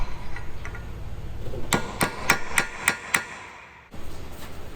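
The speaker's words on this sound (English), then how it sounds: "After the axle nut has been tightened sufficiently, we will stake the axle nut" Six evenly spaced, sharp metallic hammer strikes ring out up close while an axle nut on a 2024 Subaru Crosstrek is staked, with quieter workshop background before and after.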